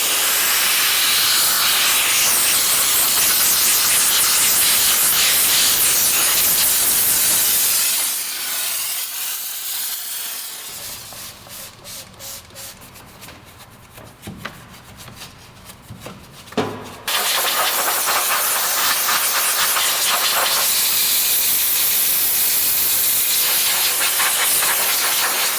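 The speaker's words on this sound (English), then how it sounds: "I'm going to be rinsing this with steam" A loud, continuous steam jet hisses close by as aluminum parts of an RZR are rinsed, cutting out for several seconds of quieter spluttering and clicks before roaring back on.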